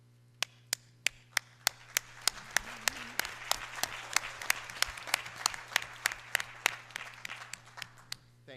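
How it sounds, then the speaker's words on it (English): Applause at a school district board meeting for a first-place robotics team: sharp, evenly spaced claps ring out over a softer bed of scattered clapping from the room, with a steady low hum beneath. "Please hold our applause to the end."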